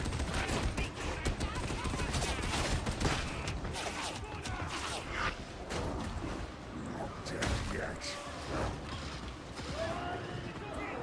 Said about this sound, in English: That guy's burst firing.